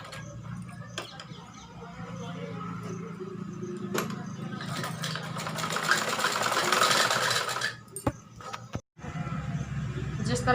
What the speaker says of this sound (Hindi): अब मैं इसके चारों तरफ से टाँका वाली सिलाई रख दूंगी।